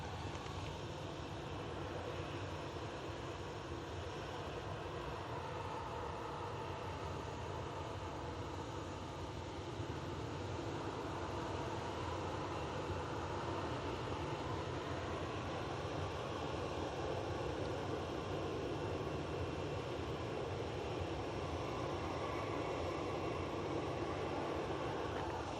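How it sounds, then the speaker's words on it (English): Airliners at Bristol Airport produce a continuous broad engine roar from fairly close by, a steady wash of jet noise holding level for the whole stretch with no talk. "Nice to hear the airplanes in some decent sound because we're quite close."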